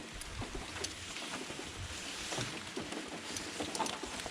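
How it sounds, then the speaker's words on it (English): Steady rain patters down in a broad, even wash, with scattered drips and taps standing out from the constant hiss, heard during outdoor work on a Ford F-350 Super Duty with a 6.8L Triton V10. "Isn't that rain lovely?"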